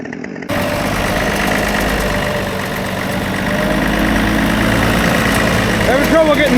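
Logging forwarder stuck in the woods, its heavy diesel engine running loudly and steadily at close range after a sudden start, rising slightly toward the end with a few creaks near the finish.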